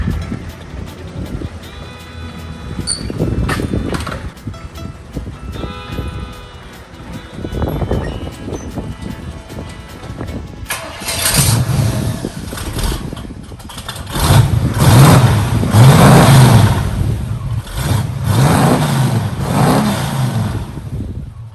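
A Pontiac Trans Am Bandit engine cranks, catches and is revved, rising from a rough start into loud, sustained throttle bursts that swell and fall over the second half, heard up close with no talk.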